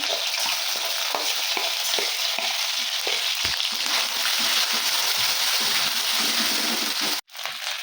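A ground ginger, garlic, onion and cumin paste fries in a pan of hot oil, giving a loud, continuous sizzle with occasional stirring scrapes, then a brief cut before the sizzling resumes.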